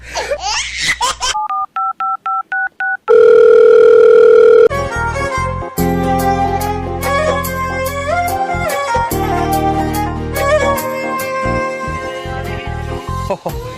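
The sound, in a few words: telephone call ringing tone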